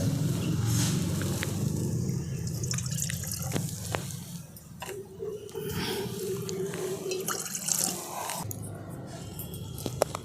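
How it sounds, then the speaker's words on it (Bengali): Water is poured into a cleaned kadai to start a thin sugar syrup, a continuous close splashing rush of liquid with a few clinks of the vessel along the way. "তো তার জন্য প্রথমে দিয়ে দিচ্ছি জল।"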